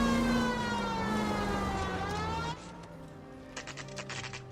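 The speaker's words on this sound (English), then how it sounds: "Put the siren on." A 1940s-style police car siren from the L.A. Noire video game wails with a long falling tone under engine drone, then cuts off, leaving softer car noises.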